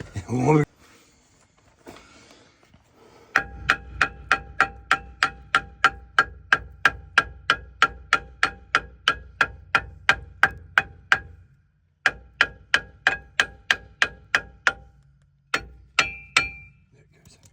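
A long run of sharp metallic hammer strikes on a brake rotor of a 2006 Dodge Ram 1500, evenly spaced and ringing, about two per second, with a short pause before the hammering resumes.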